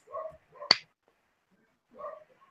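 A dog gives a single sharp bark between short bursts of low, muffled sound in a quiet room.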